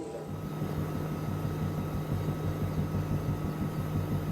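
A helicopter in flight over Guatemala or Mozambique produces a steady engine and rotor drone with a low rhythmic throb, heard from inside the cabin and unbroken by talk.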